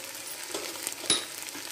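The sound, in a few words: sautéing with salt in a pan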